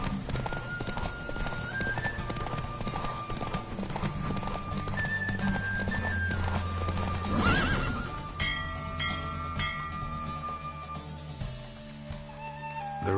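Hooves of a horse clip-clopping at a gallop during a race in the video game Witcher 3, with a whinny, over a bed of game music and ambient sound, with a voice speaking partway through.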